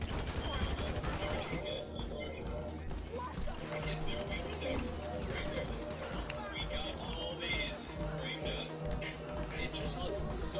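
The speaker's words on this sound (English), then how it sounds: "Shit, I'm getting shot at again." Gunfire from a GTA 5 Online heist shootout, with dense, continuous bursts and rattling shots over game noise while players talk throughout.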